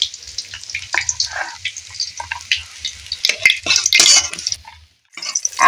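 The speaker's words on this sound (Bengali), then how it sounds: "উল্টে পাল্টে মাছটাকে ভেজে নেব।" Pieces of rohu fish fry in hot oil with a steady crackling sizzle, broken by clattering turns of the fish and a brief pause near the end, close and fairly loud.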